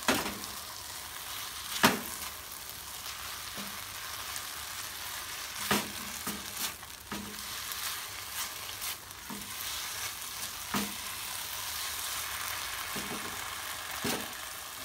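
Boiled clams stirred in Padang sauce in a frying pan produce a steady sizzle, with scattered scraping clinks of the spatula against the pan, close up and with no talking.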